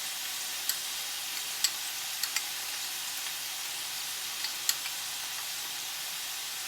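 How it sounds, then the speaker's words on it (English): Keto zucchini noodles sizzle softly in a pan as spice is stirred through them, with a constant gentle hiss and a few faint clicks of a utensil. "you could take some of the spice and mix it all up first"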